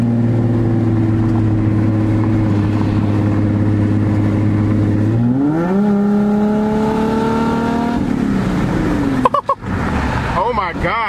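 An Infiniti G35 coupe engine idles loudly and steadily, then revs up in a rising sweep and holds higher before dropping back, with brief sharp pops near the end; close and dominant.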